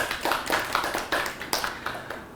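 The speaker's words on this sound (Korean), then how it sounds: "자, 박수 한번 쳐주시고요." Workshop participants clap together in a room, about a dozen sharp, fairly evenly spaced claps that gradually fade in loudness.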